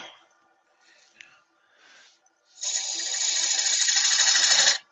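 A spindle gouge cuts into spinning wood on a lathe while shaping a bud vase, a few faint scrapes and then a loud, sustained rasping shear up close, no talk over it.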